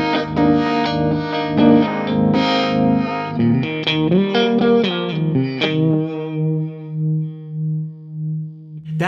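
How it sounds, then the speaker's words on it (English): Electric guitar through a Line 6 Helix harmonic tremolo, a run of chords and single notes with a pulsing, surging volume wobble, ending on one sustained note that throbs as it decays, played solo and up close. "And the harmonic tremolo by itself sounds like this."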